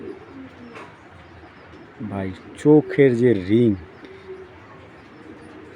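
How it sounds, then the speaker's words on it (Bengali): Breeding racing pigeons coo close by in a short series of soft, throaty warbling calls over steady background hiss, with someone talking around them. "এটা হলো একটা ব্রিডিং সুপার মিলি ব্রিডিং কবুতর"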